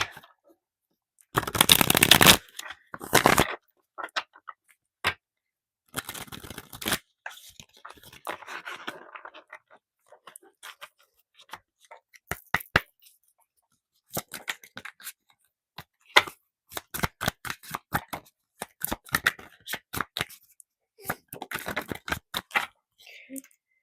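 A deck of tarot cards is shuffled in a loud riffling burst near the start, followed by scattered crisp snaps and flicks as cards are handled and drawn. Faint talk comes and goes between the sounds.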